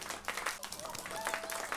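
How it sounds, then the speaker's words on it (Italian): A crowd applauding and cheering in a dense, continuous wash of clapping, fairly loud and close, with a faint tone weaving through, in the video game Lumberjack's Dynasty. "Grandi applausi."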